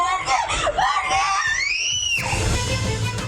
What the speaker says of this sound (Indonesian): Keluarga berusaha menenangkan korban yang berusia 12 tahun, namun korban terus menjerit ketakutan